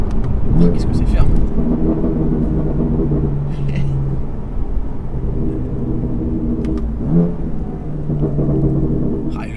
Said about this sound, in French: le son de l'échappement en titane est tellement métallique